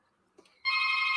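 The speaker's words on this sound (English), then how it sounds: "Hey, the doorbell's ringing." A doorbell suddenly rings out loud and steady, a sustained electronic tone following a quiet moment with a faint small knock.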